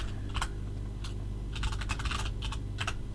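Quiet typing on a computer keyboard while entering commands in a Minecraft Factions cannoning mod pack, with scattered bursts of keystrokes that come in short clusters and pauses.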